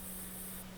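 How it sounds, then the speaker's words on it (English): Aerosol spray can hissing steadily as Quicksilver Chrome paint goes onto a Hot Wheels 66 Nova body, a brief, continuous close hiss with no talking. "spray some Quicksilver Chrome"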